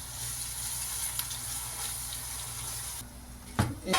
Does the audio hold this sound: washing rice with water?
yes